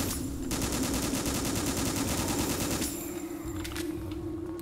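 Rapid automatic gunfire in the video game Gynophobia, a loud continuous burst of fast repeating shots that drops to a lighter hum before a few sharp final cracks.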